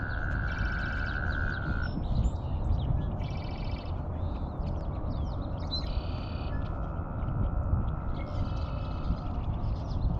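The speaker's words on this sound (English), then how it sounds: "I assume it's some kind of a frog" Frog or bird calls at Barr Lake, Colorado, a repeated buzzy rattling trill in bursts over steady broadband outdoor noise, with a sustained tone early on.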